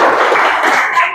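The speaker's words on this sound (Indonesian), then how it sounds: "Tepuk tangan untuk temannya." Schoolchildren in an Indonesian classroom clap for a classmate, a short burst of dense, steady handclaps that sound close and fairly loud, with no voices over them.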